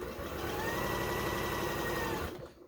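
A sewing machine stitches a quilt seam in a steady, continuous mechanical whir that holds evenly for over two seconds, then cuts off and leaves near silence.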